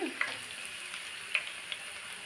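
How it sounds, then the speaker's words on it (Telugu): Tomato pickle being stirred in a hot pan gives a steady, soft frying sizzle with a few light clicks of a ladle, close and continuous with no talk. "నేను మామూలుగా తిప్పుతున్నాను"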